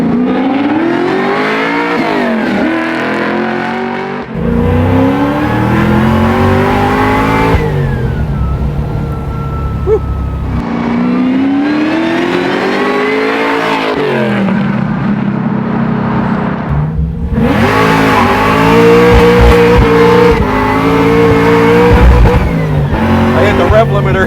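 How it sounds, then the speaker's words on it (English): A supercharged 750 hp LS9 V8 in a Camaro convertible revs hard and climbs repeatedly in pitch, bouncing off its rev limiter, loud and close, with voices talking over the engine noise. "I hit the rev limiter."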